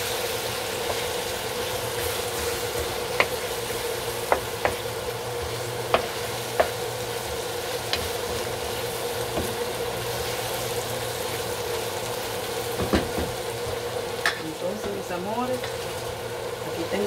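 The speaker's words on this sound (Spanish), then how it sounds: "Hay que dejarlo bien sofreír rico, suelte todo el sabor" Longaniza sausage sizzles steadily in a hot pan, a constant frying hiss with occasional sharp pops and stirring scrapes, close and moderately loud throughout.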